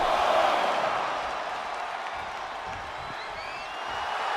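An arena crowd cheers in the WWE 2K25 wrestling video game during a title match, a steady broad roar of noise that swells slightly at the start and end.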